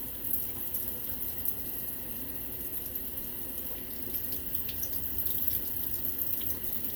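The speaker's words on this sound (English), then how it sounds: "put water in there, let it rinse" Water runs steadily from a tap into a homemade Berkey-style gravity filter being rinsed, a continuous close hiss and splash with no pauses or voices.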